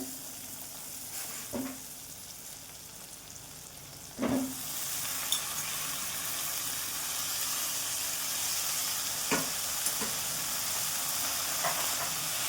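Amaranth greens meet sautéed masala in a hot pan, giving a steady close hiss of sizzling with a few sharp stirring clatters, no voices.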